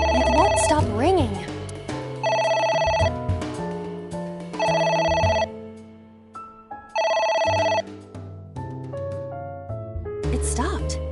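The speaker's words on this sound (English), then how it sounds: "It won't stop ringing." An in-game telephone in AI: The Somnium Files rings insistently, with repeated electronic trilling bursts separated by pauses, layered with game music and voice sounds.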